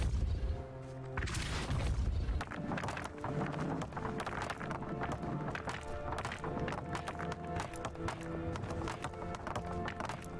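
A Confringo fire spell blast in the video game Hogwarts Legacy bursts loudly, followed by dense game action with repeated thuds and hits under a steady musical backdrop.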